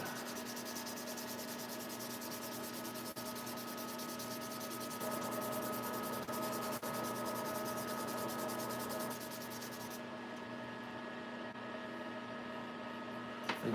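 A tobacco pipe is sanded by hand with 400 grit sandpaper in a steady, continuous rubbing rasp over a constant background hum.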